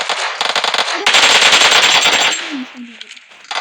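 PUBG Mobile gunfire crackles in rapid automatic bursts, loud and close, then fades toward the end of the clip.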